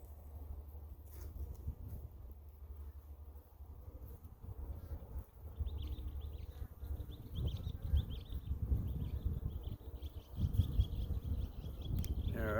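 Honeybees buzz steadily around an open hive while a frame is worked back into place, a low close drone that swells louder over time with a few higher whines of single bees passing near.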